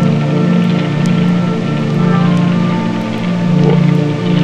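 Steady rain falls in a continuous, even hiss of drops on surfaces. The wash stays close and fairly loud throughout, with no voices.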